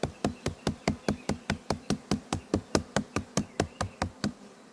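Local honey bees at an apiary hive, heard close up as a rapid, even train of sharp buzzing pulses, about four per second, loud and steady with no voices.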